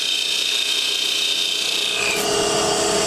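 Parting tool cutting into spinning wood on a lathe, a steady loud rasping scrape that holds for the whole stretch and shifts slightly in pitch near the end.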